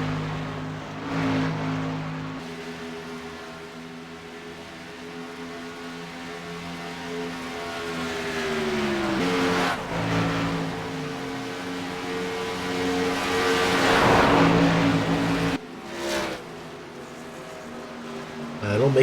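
Racing trucks in a Southern Motorsports Truck Series race at Auto Club roar on track in a sustained engine drone with pitch shifts as trucks pass, under continuous commentary.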